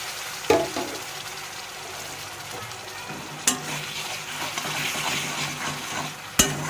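Jackfruit masala with garlic paste frying in a pan, a steady sizzle under close stirring, with three sharp knocks of the spoon against the pan spread through the stretch.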